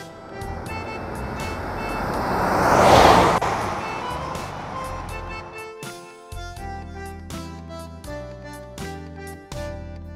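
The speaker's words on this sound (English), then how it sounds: "Pickup truck." A pickup truck passes by, its engine noise swelling loud and close before fading, with bright upbeat music running underneath and taking over once the vehicle has gone.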